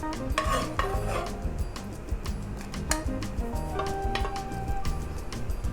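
Stir-fried zoodles and mushrooms are scraped from a pan into a bowl, with steady close clatter and scraping of a utensil over a faint sizzle and occasional light clinks.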